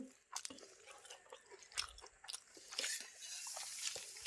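Quiet, close chewing of fried eggplant at a lunch meal, soft moist crunches and squishy bites in an irregular rhythm against a hushed background.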